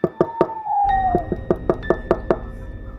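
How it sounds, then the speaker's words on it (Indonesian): Knocking on a bedroom door at night, a run of sharp, evenly spaced raps that continue and grow firmer, with a faint sliding tone heard briefly between the knocks. "Semakin lama suara ketukan itu semakin keras."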